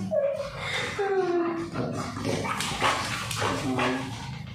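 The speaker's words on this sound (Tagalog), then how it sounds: "tapos sinusundan siya ng mga aso." Several dogs bark and whimper close by, with rising and falling yelps and short barks in an irregular sequence over a noisy background.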